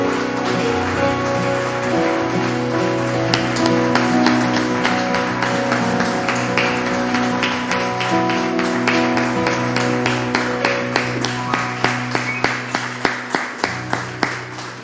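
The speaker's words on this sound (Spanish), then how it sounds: "Dale un fuerte aplauso al Señor" A church congregation clapping in rhythm with music, the claps sharp and regular, spread across a large group and carrying on steadily over sustained musical tones, becoming more distinct toward the end.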